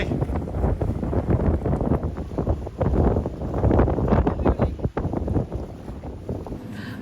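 Strong, blustery wind blows outdoors, a loud continuous rumbling roar with gusty swells that buffets the microphone for several seconds.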